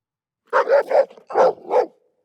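A dog barks five times in two quick bursts, close and loud, with short pauses between groups.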